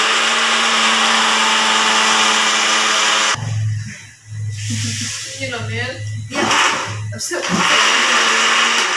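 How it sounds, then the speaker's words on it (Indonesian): A blender grinds mung bean sprouts until smooth, a loud steady whirring that stops partway through, followed by brief talk and clatter. "Selanjutnya kita blender sampai halus."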